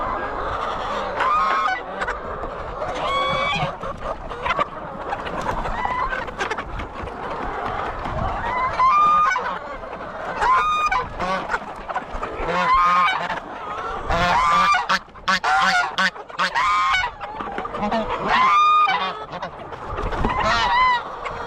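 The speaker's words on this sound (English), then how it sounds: "These geese are really like all in my face, man." A flock of geese at feeding time on a farm honk loudly and repeatedly at close range, a dense, overlapping chorus of harsh calls that carries on throughout with scuffling noise underneath.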